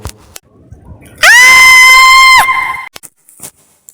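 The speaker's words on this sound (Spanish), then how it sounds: "Abrió muy grande la boca y gritó." A woman lets out one loud, sustained, high-pitched scream lasting over a second as a horror audiobook effect, cutting off sharply, with softer rustling before and after.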